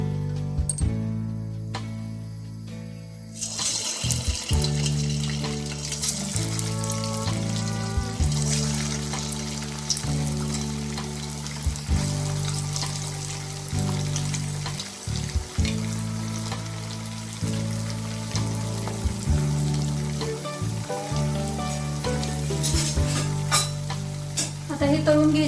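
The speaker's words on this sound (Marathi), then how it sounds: "आता या तेलामध्ये हे कटलेट्स आपण सोडून घ्यायचे आहेत।" Cutlets made from leftover rice fry in hot oil, a loud continuous sizzle close by, with repeated stirring and scraping in the pan over steady background music.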